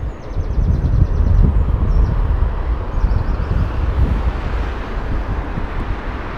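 A JetBlue airliner comes in overhead on approach to Heathrow, its engine roar heavy and sustained over strong wind buffeting on the microphone, with no talking.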